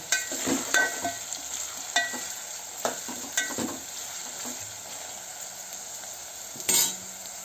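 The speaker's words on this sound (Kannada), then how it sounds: "ಕ್ಯಾರೆಟ್ ಫ್ರೈ ಆಯಿತು." Carrots frying in a pan for avarekayi uppittu, giving a soft continuous sizzle broken by a few scattered spoon stirs and scrapes, with a sharper clatter near the end.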